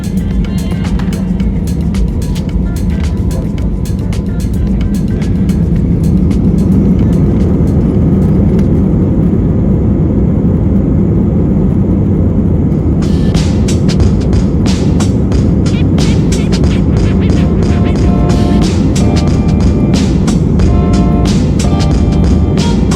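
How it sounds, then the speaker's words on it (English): An Allegiant Airbus A319 takes off, heard from inside the cabin as a loud, steady roar of engines and rushing air that builds partway through and holds dense and constant throughout. "it was finally our turn to take off"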